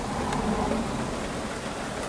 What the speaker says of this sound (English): So now you can probably hear the rain as well on the roof of my car